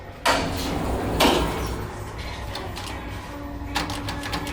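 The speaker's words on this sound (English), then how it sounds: "Door does not close when you push the button." A Flexi-Lift hydraulic LULA elevator door at an Urban Outfitters store slides and thumps with a few sharp clunks over a steady low motor hum, close and fairly loud.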